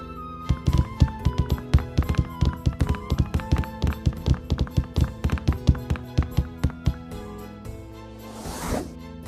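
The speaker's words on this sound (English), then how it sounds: "Oh, I hear footsteps." Footsteps in the adventure video game Ceville sound as a rapid, regular series of hard, resonant clip-clop taps, loud and close, ending in a brief rustling swish.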